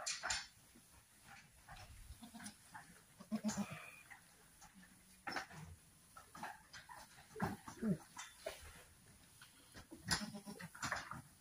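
Scattered dog barks and yelps mix with bleating goats and other farm animal noises at a goat farm during kidding, fairly faint, in short irregular bursts across a quiet yard.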